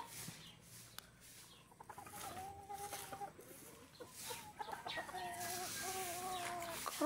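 Several chickens cluck near and far in an outdoor yard, with short repeated calls over a quiet background.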